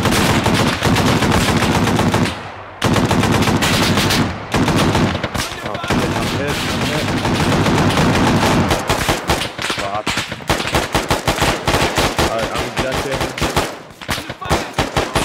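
Gunfire in ArmA 3 during a firefight in Afghanistan: loud, dense bursts of machine-gun and rifle fire, with rapid sustained volleys and short pauses. Shouted voices come and go beneath the shooting.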